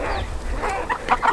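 Short, soft clucks from chickens, a few quick calls rising near the end over a low background rumble.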